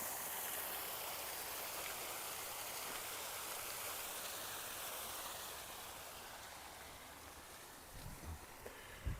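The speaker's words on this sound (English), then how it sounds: "there's a bit of a creek here that flows under this little footbridge" Small creek flowing under a little footbridge on a walk in Regina, a soft continuous trickle and babble of water, steady and moderately near, with a few faint knocks or steps toward the end.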